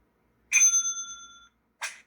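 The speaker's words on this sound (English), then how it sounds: "The first thing it's going to do is play its two sound effects." A bell-like chime from the sound player of a 3D printed servo-driven automaton, a clear ringing tone that sustains for about a second and fades, followed by a shorter second strike, alone in silence.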